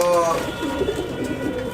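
Malwai pigeons coo softly and repeatedly at close range, with murmuring voices in the background.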